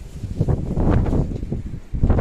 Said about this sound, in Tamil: காற்றுனா காற்று சரியான காற்றுங்க